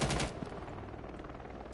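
Continuous muffled gunfire from a video game, heard faintly as if from a TV across the room, a steady crackling rumble with no talking.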